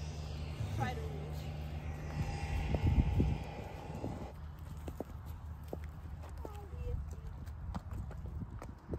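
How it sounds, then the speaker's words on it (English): Horse hooves clip-clop on the ground at a riding stable, a steady rhythm of close, fairly loud steps under people chatting nearby. "do y'all see the little horses?"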